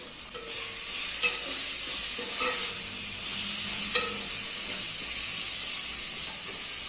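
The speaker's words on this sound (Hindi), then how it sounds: "अभी इसको भी हम लोग 3 से 4 मिनट तक मीडियम फ्लेम पे पकाएंगे।" Tomato masala cooking in oil on a medium flame for chicken curry, a continuous loud sizzle and hiss with occasional spoon stirs and scrapes.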